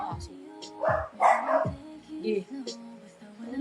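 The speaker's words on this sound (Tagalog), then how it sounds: "Tinahulan ko ng aso." A dog barks a few times in short sharp bursts with brief whimpering yips between, fairly close, mixed with voices of people talking nearby.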